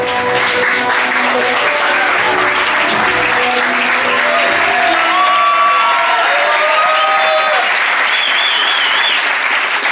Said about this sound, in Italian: un forte applauso per questi giovani